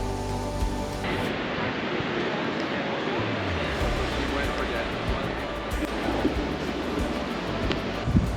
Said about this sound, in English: listening to the ever-present roar of the waves